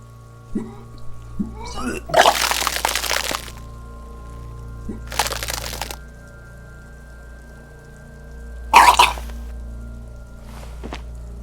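Retching and vomiting in the Disco Elysium video game, three loud wet gushing bursts separated by pauses, splashing as if onto the floor, over a low steady hum.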